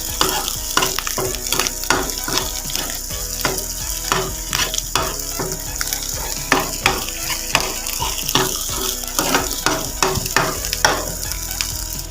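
A spatula stirs grated coconut and egg in a hot pan. The sizzle is steady and close, with rapid scraping strokes repeating throughout and no pause.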